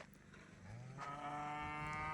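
Cattle mooing at a cattle farm right beside a rural housing plot, a long drawn-out low bellow that swells and holds steady over a constant outdoor background, with no voices.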